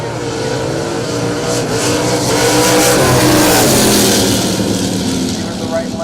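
First-generation Chevrolet Camaros drag racing side by side at a drag strip event, a loud sustained engine roar rising and falling over the full stretch, with an announcer talking over it.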